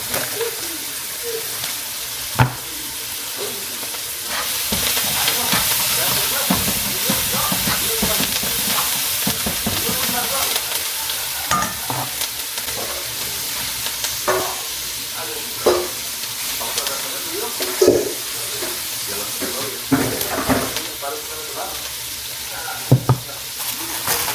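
Peppers frying and sizzling loudly in a hot pan as they are stirred, a steady close hiss with scraping and clatter throughout.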